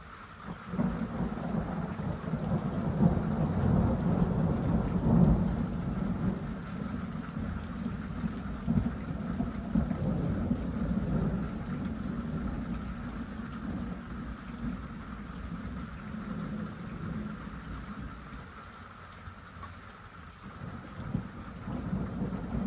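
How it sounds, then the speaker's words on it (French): Heavy early-season thunderstorm with loud, close rolling thunder over steady rain pattering on surfaces, a continuous dense wash of sound throughout with no voices. "c'est le premier orage fort quand même de la saison là"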